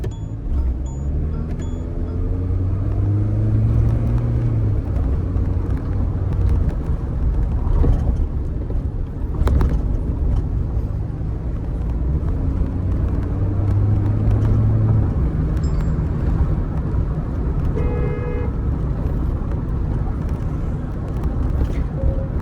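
A Mahindra Thar Roxx AX7L four-wheel-drive diesel automatic SUV pulls away and accelerates from inside the cabin, a loud steady engine drone with rising and falling tones as it shifts, no talking.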